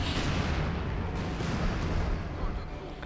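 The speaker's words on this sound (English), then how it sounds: "Light artillery barrage strike down there upon the enemies of Germany" A light artillery barrage in the World War II strategy game Company of Heroes 2 rumbles as a dense, continuous wash of booms and blasts, loud and unbroken with no clear gaps.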